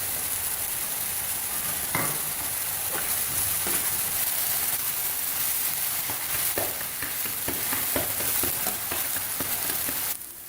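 Chopped tomatoes and green chilies sizzle and fry in hot masala oil for an egg fry, a steady close crackling hiss with occasional stirring clinks of a spoon in the pan.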